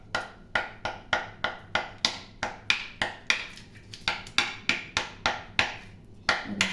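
An old coconut being pierced through its side with a tool, about sixteen sharp, evenly spaced knocks in steady rhythm, close and fairly loud, with no talking.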